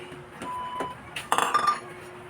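Freshly harvested farm vegetables, including lubi-lubi shoots, are stirred in a cooking pot, giving a few light metallic clinks and scrapes of a utensil, fairly quiet, with a brief cluster of clinking near the middle.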